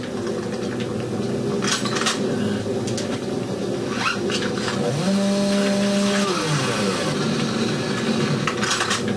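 Chainsaw tearing into a zombie in the video game Doom 3, a continuous buzzing grind with a rising and falling revving whine in the middle, over steady game noise.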